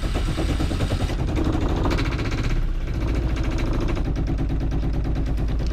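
A Yanmar 1GM single-cylinder marine diesel runs at a steady idle of about 1,000 RPM, its loud, close, rhythmic chugging and knocking filling the space with no break.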